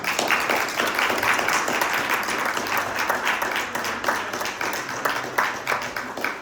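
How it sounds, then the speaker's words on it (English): Sustained audience applause closing a library board candidate forum, many hands clapping in a dense, even patter from a room full of people, loud and continuous for several seconds with no speech. "Would you like to give them an applause?"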